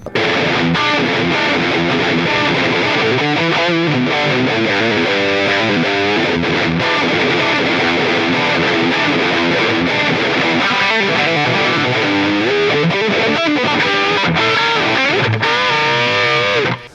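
Heavily distorted electric guitar from an HX Stomp (Helix 3.0) preset based on the Diesel VH4 Mega channel, played continuously with thick, saturated chords and riffs, loud and sustained throughout without any voices.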